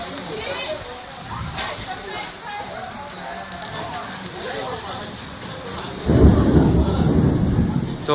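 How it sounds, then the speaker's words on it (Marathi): Heavy unseasonal rain pours steadily in Mangaon, and a deep roll of thunder swells loud and close near the end over the constant rain hiss, with a voice speaking briefly. "जवळजवळ गरजत आहे."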